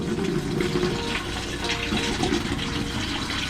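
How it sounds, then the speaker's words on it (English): Water runs steadily from a newly fitted tap in an RV bathroom, a continuous, fairly loud gushing stream, with no talking. "I'm going to lightly open this knob and hopefully water comes out the bottom"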